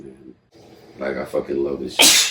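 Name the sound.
sneeze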